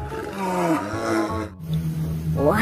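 A bear gives a deep, growling roar, loud and close, in two drawn-out bursts with a brief pause between them.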